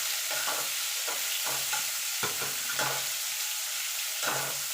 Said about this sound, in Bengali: পেঁয়াজ আর ক্যাপসিকামটা একটুখানি ভাজা ভাজা করে নেব।